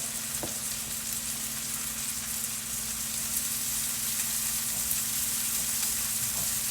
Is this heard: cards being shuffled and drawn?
no